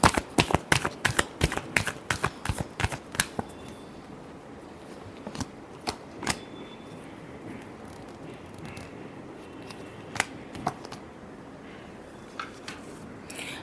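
A deck of cards is shuffled close up. A fast riffling run of crisp slaps gives way to slower, scattered flicks and soft rubbing, with no voices.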